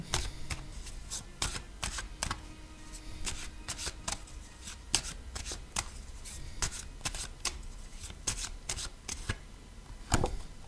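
Tarot cards are shuffled and drawn during a card reading, producing a rapid series of crisp riffling and slapping clicks at close range with no talk.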